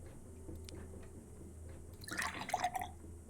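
Water drips into a tank in the video game Fran Bow, a few soft drops and a short trickle over a quiet, low room hum, with no talking.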